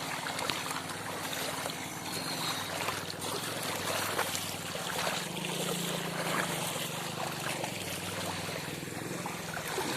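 Palar river water rushes steadily during a crossing at Avarankupam, a dense broadband wash that stays loud and even throughout with no clear break.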